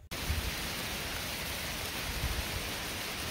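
Rain falls on the Appalachian Trail in Massachusetts, a steady, even hiss of drops that starts abruptly and holds constant with no voices.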